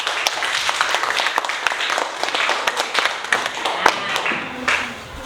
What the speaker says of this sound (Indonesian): kita kasih tepuk tangan untuk kita semua